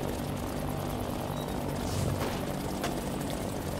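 An aircraft taking off in the game Trailmakers, a steady droning engine roar with a faint whirring rotor quality, constant and fairly quiet with no speech.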